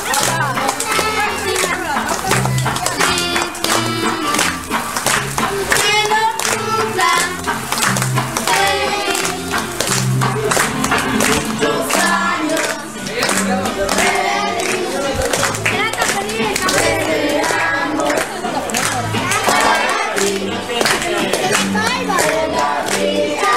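Party guests at a child's birthday clap their hands in a steady rhythm along with loud music, with a crowd of children's voices mixed in throughout.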